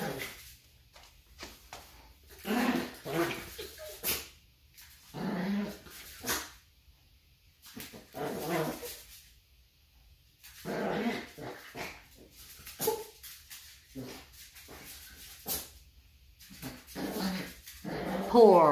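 A puppy whimpers and growls in short bursts separated by quiet gaps during a bath, close by, with faint human voices mixed in.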